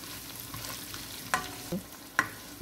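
Onions and chopped tomatoes stirred in a frying pan for an aloo gobi dish, with a soft background sizzle and three brief scraping strokes spaced about half a second apart, fairly quiet.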